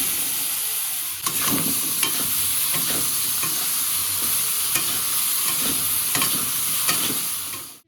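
Eggplant fries in a little oil already seasoned with turmeric and salt, giving a steady close sizzle for the whole stretch, broken by a regular series of spoon-stirring scrapes and taps that fade out at the end.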